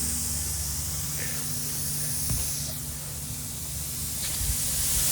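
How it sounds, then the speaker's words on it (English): Air hisses steadily from a leaking pneumatic hookup on a stainless steel, food-grade CV-TEK/M-TEK Mark III vacuum gas-flush bag sealer, a continuous broadband hiss with a low machine hum beneath and a few faint clicks. "Our hookup is leaking a little air, but the bag sealer is not."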